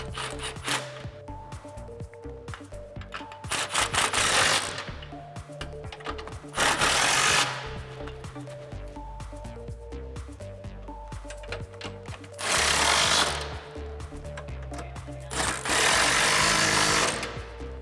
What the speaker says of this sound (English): let's tighten those up with our 16mm socket